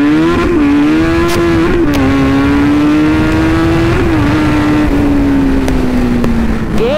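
Kawasaki Z900 motorcycle engine revving steadily while riding, a loud, close, continuous growl whose pitch rises and dips as the rider shifts gears quickly.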